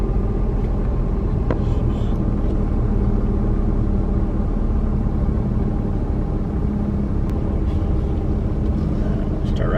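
An RV rolls through Kendall Campground in Kentucky, a steady low engine and road rumble that stays constant and loud throughout while a person talks over it.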